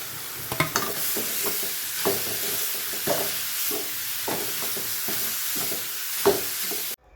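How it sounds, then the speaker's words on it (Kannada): Shredded cabbage fries in a little oil in a pan, a steady close sizzle broken by repeated scraping stirs, with no talking. "ಇದು ಕ್ಯಾಬೇಜನ್ನ ಸ್ವಲ್ಪ ಎಣ್ಣೆಯಲ್ಲಿ ಚೆನ್ನಾಗಿ ಫ್ರೈ ಮಾಡ್ಕೋಬೇಕು"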